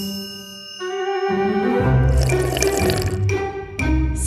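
Water runs from a tap in a steady rushing stream, close and moderately loud, with a brief ringing tone at the start.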